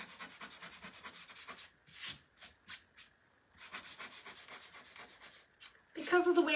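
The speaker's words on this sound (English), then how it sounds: "So I think I'm going to sand right here." Hand sanding on a DIY beach-themed wooden welcome round, with repeated short scratchy strokes in bursts separated by brief pauses, fairly close and moderately loud.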